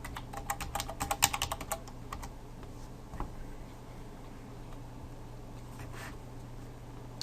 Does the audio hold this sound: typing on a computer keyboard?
yes